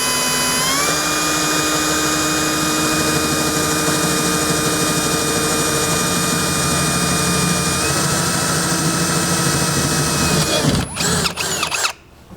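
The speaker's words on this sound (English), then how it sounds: "go ahead and slowly drill these holes" A loud power drill whines steadily for about ten seconds while drilling holes in a truck bed side panel, its pitch shifting slightly, then stutters and cuts out in a few bursts.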